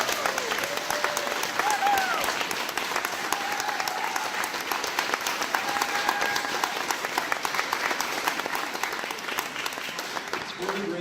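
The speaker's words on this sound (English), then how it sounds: "How about a big round of applause for the coming of age group?" A congregation applauds a coming of age youth group with a long, even round of clapping, while faint voices and a few tonal sounds drift underneath.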